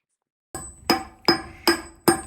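Special hammers dress the millstones of the 1804 windmill De Vrouw Johanna, striking five sharp, ringing metallic blows at an even, unhurried pace, close and loud with short decays.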